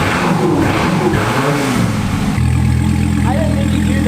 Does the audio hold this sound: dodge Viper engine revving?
yes